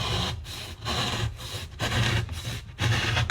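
A hand saw rasps back and forth through plasterboard in a steady rhythm of about seven strokes, close and fairly loud, with no talking.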